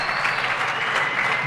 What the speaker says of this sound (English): The crowd is going ballistic.